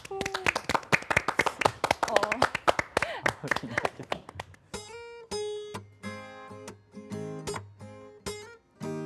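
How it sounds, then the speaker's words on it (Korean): An audience claps in quick, uneven bursts as a guitar performance is introduced on a Korean broadcast program, the crisp claps thinning out as plucked, ringing tones take over. "그럼 박수로 청해 듣도록 하겠습니다"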